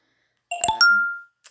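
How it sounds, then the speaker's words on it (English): A short computer notification chime plays during a live book-discussion stream: a few bright stacked tones in quick succession, then a sustained ringing note that fades, and a faint final blip, in an otherwise quiet room. "Oh no, I don't want notifications while I'm streaming."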